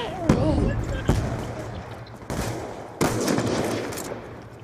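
Gunfire from the video game Call of Duty Black Ops 2: sharp shots in short bursts, each punching loudly above a busy game soundtrack, with a voice talking over the action.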